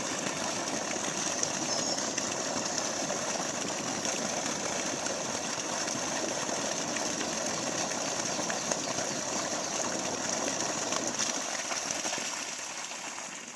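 A 3hp Versil AC/DC solar water pump runs on a farm, pushing water in a steady, continuous rush that holds even and loud throughout, easing slightly at the very end, with no talking.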